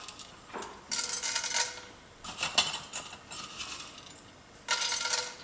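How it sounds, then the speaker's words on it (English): Urad dal and chana dal poured into a pan, dry lentils rattling and pattering in three bright bursts separated by short gaps. "So it's time to add some urud dal and some chana dal."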